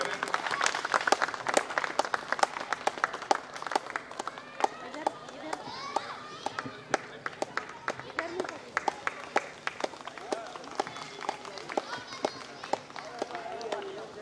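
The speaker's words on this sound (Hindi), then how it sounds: "आप लोग ताली बजा करके स्वागत करें।" Audience at a Hindu devotional bhajan programme in Gorakhpur clapping to welcome a guest, brisk sharp claps throughout with a voice speaking over them.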